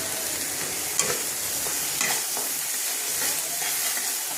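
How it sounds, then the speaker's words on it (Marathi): Spice paste with red chilli powder frying in oil in a pan for a bottle-gourd dish, giving a steady, close fizzing sizzle with a few sharp stirring taps. "आता यांना चांगलं तेल सुटून द्यायचं"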